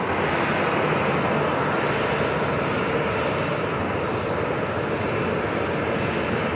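A Ryanair airliner at Lanzarote Airport produces a steady, continuous engine roar at moderate loudness with a broad rushing texture and no talk.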